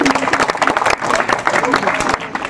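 At a poetry gathering for a book launch, an audience claps briskly in a busy patter, with voices talking over the applause the whole time.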